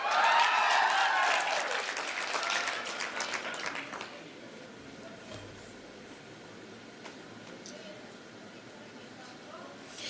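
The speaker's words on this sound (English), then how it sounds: "You must clap for them loudly so they don't ever ask for board sitting fees." An audience at a health training centre graduation applauds board members with dense, loud clapping that fills the first four seconds, then fades to quiet room ambience.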